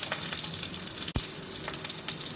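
Crushed garlic sizzles in hot oil in a pan with mustard seeds and cumin, a close, crackly hiss with scattered pops and one sharp clunk midway.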